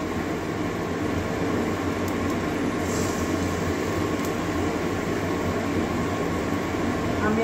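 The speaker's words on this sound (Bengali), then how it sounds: "এবারে বড়াগুলো ভেজে নেবো" Lau shak (bottle gourd leaf) fritters frying in hot oil over medium heat make a dense, even sizzling hiss that stays loud and close throughout, with no speech over it.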